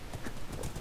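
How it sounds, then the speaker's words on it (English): A horse trots in Minecraft while fighting the Ender Dragon in the End, producing quick, evenly spaced hoof clip-clops, moderately quiet, with no talking. "Here's a horse in the end, while fighting the end dragon."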